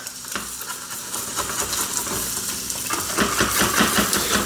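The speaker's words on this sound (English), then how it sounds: "let's try my egg here. Not really cooked yet. I'll try to flip it over." An egg frying without oil on a non-stick griddle, a continuous close sizzle and crackle that grows slightly louder and busier partway through as the egg is flipped.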